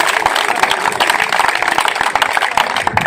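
Steady, dense applause from an indoor audience, many hands clapping at once in a loud, continuous patter that holds without pause from start to finish.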